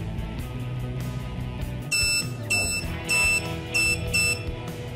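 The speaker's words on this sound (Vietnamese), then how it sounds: "Khi mà còi báo và led nhấp nháy" An RF125-RL1 125 kHz RFID access controller buzzer sounds four short, loud, high beeps in a steady pulsing rhythm over a low background hum, with no talking.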